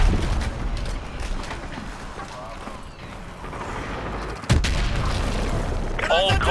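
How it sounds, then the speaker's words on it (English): Heavy gunfire and booming explosions rattle through a Call of Duty: Modern Warfare 2 battle at an evac landing zone. Sharp bursts and a loud impact sit under radio-style voices talking. "The LZ is under heavy fire."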